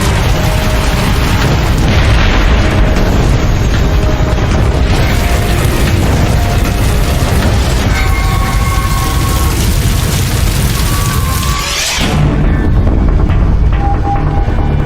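Natural gas explosions and the raging inferno in Celaya, heard as a loud, continuous roar and rumble with bursts throughout, a sharp dip near the end, then the roar resumes.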